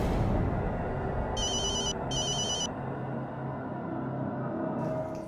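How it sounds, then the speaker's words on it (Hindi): A phone rings in two short electronic bursts, a brief gap between them, over a quiet room tone. "अरविंद का फोन है, शायद वो भूल गया है"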